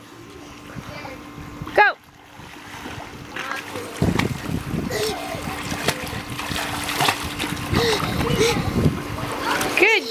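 Child swimming and splashing in water, sloshing splashes that build and continue under an adult's and a voices, with wind noise.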